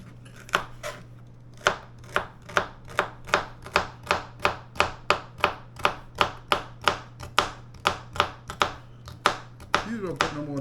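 Celery stalks being chopped on a cutting board while cooking neck bones and gravy, about two dozen crisp, evenly spaced knife strikes, close and clear, with a faint steady hum underneath.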